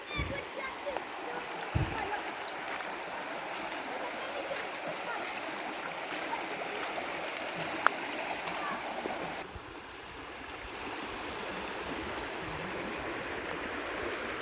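River water at the Bah Aras source, running in the dry season, flows in a steady, soft rushing wash with a few small splashes, while voices murmur faintly in the background.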